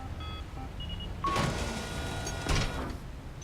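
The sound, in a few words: hatch closing in the video game Mass Effect 3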